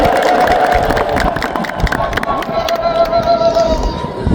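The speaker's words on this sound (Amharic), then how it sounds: "እልል ብላችሁ" Crowd of worshippers ululating and cheering in celebration at an Ethiopian Orthodox monastery feast of Saint Mary, a dense, continuous wall of high trilling voices with clapping, loud and close throughout.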